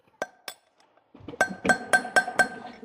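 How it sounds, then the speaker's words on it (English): Metal hammer strikes driving out a steel bearing race from a trailer hub: two sharp ringing clinks, a pause, then five rapid ringing blows in a steady rhythm, close and loud. "Let's try to see if I could hammer it out."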